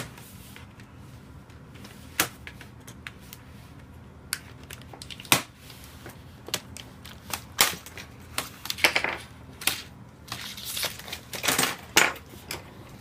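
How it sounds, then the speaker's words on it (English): Plastic tabs on a Dell Vostro 3550 or 3560 laptop keyboard are pushed in to release it, giving scattered sharp clicks and snaps, sparse at first and then quicker and denser, close and alone. "Remove the keyboard by pushing in the tabs."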